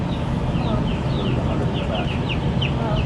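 Chickens cluck and chirp steadily inside a chicken farm barn housing all-male cockerels, many birds calling at once over a dense, constant murmur of the flock.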